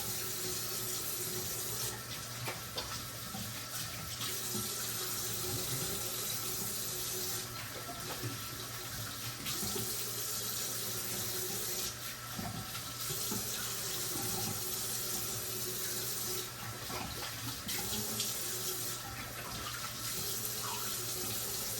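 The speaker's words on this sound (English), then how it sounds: "you're gonna rinse your head before you start shaving again anyway" Tap water running steadily from a faucet into a sink while a freshly shaved head is rinsed under it, a continuous close splashing flow with periodic surges as hands move through the stream.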